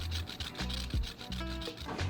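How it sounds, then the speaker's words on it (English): Philippine heritage salt from Bohol rubbed against a grater in short, raspy strokes, a close, steady scraping that pauses briefly between passes. "you can use a grater and kind of grate the salt in"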